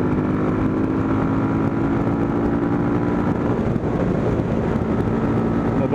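Sport motorcycle exhaust while riding on a smooth tar road, a loud, steady engine drone with wind rush, continuous and close throughout.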